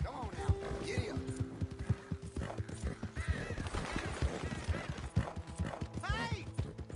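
Horse hooves clip-clopping in a steady trotting rhythm in Red Dead Redemption 2, close and clear, with occasional whinnies and a voice speaking over the hoofbeats.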